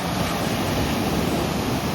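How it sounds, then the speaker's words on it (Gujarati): Sea waves roll onto the beach at Diu as a loud, continuous broadband roar, with no speech over it. "તો હવે આપણે દરિયો બાજુમાં આવી ગયો"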